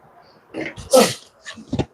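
A single sharp sneeze close by indoors at a carpentry build, a brief intake then an explosive burst, with a short throat sound after.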